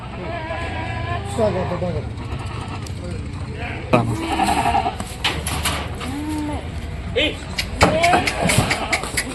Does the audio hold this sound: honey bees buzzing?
no